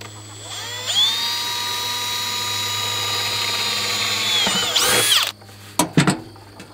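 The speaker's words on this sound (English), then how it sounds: "that drill bit's pretty sharp, so it worked pretty good" A high-pitched power drill whines steadily for several seconds while drilling a hole for a DIY chicken waterer, then winds down, followed by a few short bursts as it starts and stops.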